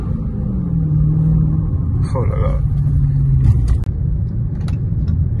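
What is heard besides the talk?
Dodge Charger SRT Hellcat engine while driving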